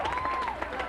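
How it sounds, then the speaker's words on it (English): A sold-out crowd at a youth hockey arena applauds in a brief burst of dense clapping, with a faint tone sounding underneath. "They're getting a rousing round of applause from this sold-out crowd here at Quincy Youth Arena."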